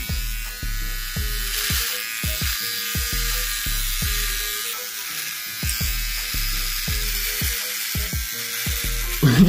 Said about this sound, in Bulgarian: Се бръсна.